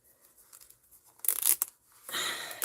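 A plastic zipper gives two rasping bursts, close and fairly loud: a short ragged pull, then a smoother, longer zip after a pause. No voice is heard.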